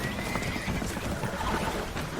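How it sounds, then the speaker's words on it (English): Spooked horses in the video game Red Dead Redemption 2 whinny and neigh loudly over clattering hooves and a dense, noisy background. "Horses are spooked, and we're taking on water."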